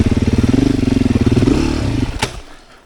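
A Beta 500 RS motorcycle pulls away as the clutch is released, its loud pulsing thump rising in pitch. The engine note then drops off abruptly after a sharp clatter.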